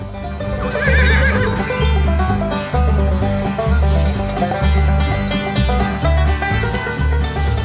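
A horse at a horse camp neighs loudly and close, a long shrill whinny near the start followed by further calls, with faint hoof clops in the background.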